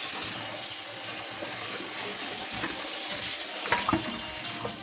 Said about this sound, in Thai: ล้างสองสามรอบแล้ว อันนี้เป็นรอบสุดท้าย